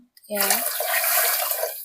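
Water is poured into roasting upma semolina in a pan, giving a loud, steady rushing hiss and sizzle that lasts over a second and a half. A brief voice is heard just as the pouring begins.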